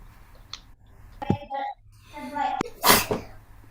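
A single sharp sneeze bursts out near the end, preceded by short bits of nearby speech.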